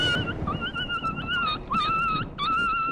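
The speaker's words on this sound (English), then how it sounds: "This dog got so scared, it just jumped in my car." A frightened stray dog whimpers and yelps in high, wavering cries, several repeated whines close by against a background of outdoor rumble as a storm approaches.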